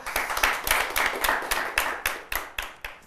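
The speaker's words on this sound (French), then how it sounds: "qu'on applaudit très très fort" Sharp, evenly spaced claps from a small studio audience at a French-language music TV show, beating in a quick steady rhythm of roughly three to four claps per second, close and distinct rather than a dense roar.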